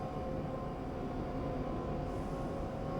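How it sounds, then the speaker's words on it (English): A passing train in Train Simulator on the South London Network, heard from a Class 456 unit, makes a steady, continuous rolling rumble at moderate volume with no talk over it. "Another train coming past."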